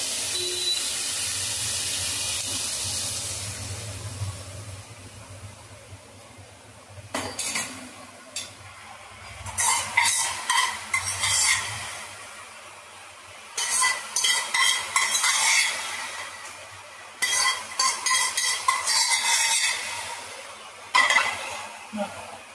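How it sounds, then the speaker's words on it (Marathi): Cooked whole red lentils are poured into a hot spice tempering in a pot, then stirred: a low sizzle gives way to repeated bursts of wet spoon scraping and stirring, close and fairly loud. "हा शिजलेला मसूर आता आपण या फोडणीमध्ये ओतून घेऊ"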